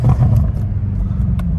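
BMW M5 with an aggressive burble tune, its exhaust rumbling loudly up close with a few sharp pops breaking through the low idle.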